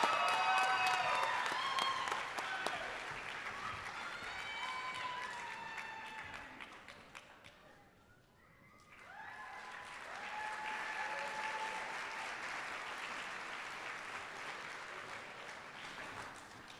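Applause from a graduation audience for the veterinary medicine class of 2023: dense, sustained clapping with whistles and cheers, briefly dipping quieter midway before swelling again.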